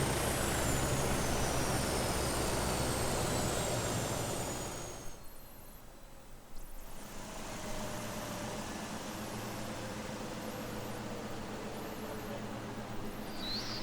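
A helicopter engine spools down in the Prepar3D flight simulator, its loud steady whine and rotor roar dropping sharply midway, then settling into a quieter continuous hum with a fading high whistle.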